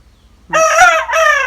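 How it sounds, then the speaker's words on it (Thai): A Thai game chicken rooster crows once, loud and very close, in a strained, rising call that breaks briefly and then carries on, with nothing else behind it. "ขันสองครั้ง มาขันขอขนมเหรอลูก"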